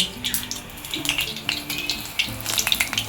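Eggplant fritters (beguni) frying in hot oil in a large kadai, giving a steady, close crackling sizzle with bursts of hiss and occasional clinks, with no talk.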